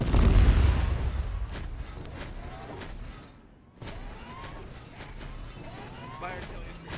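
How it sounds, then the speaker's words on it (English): Airburst artillery rounds detonate in a Starsim battle on Geonosis, a heavy opening blast followed by rumbling booms and scattered pops, dropping briefly to quieter before more crashes resume, with players talking throughout. "I mean, I heard the explosions"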